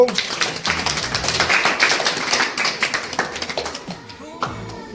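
A classroom group applauds a quiz team after its score is announced, with brisk, scattered clapping close by that holds steady and then thins out toward the end while a voice briefly speaks over it.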